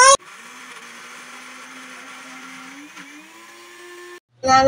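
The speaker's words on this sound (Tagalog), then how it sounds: "Ibe-blender ko pala yung carrots at saka yung kalabasa para maging puree siya." A blender pureeing carrots and squash whirs steadily for about four seconds with a high motor whine, then cuts off briefly before a clatter at the end.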